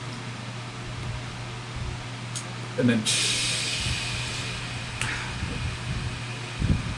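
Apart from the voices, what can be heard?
white noise static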